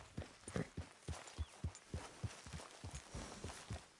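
Hooves of a filly being ridden in Red Dead Redemption 2, a steady clip-clop rhythm of close, fairly quiet hoofbeats at a trotting pace, heard alone without talk.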